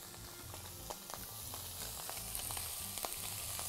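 Chicken skin frying in a little oil, giving a steady, close sizzle with dense crackling spits and pops that carries on continuously and unbroken, with no talking over it.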